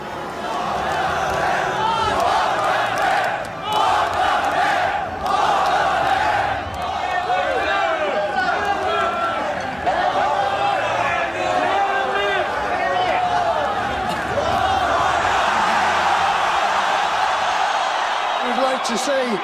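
A concert crowd cheers and shouts in a constant, loud, echoing roar with scattered yells, while a voice speaks over the din.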